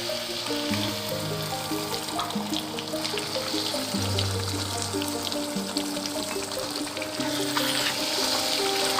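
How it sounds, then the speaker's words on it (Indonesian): Blended bird's eye chili with half a glass of water pours into a pan for peanut sambal, giving a steady sizzle and trickling liquid against a constant bubbling background with faint melodic tones. "Selanjutnya kita turunkan cabai rawit yang sudah kita blender tadi dengan setengah gelas air."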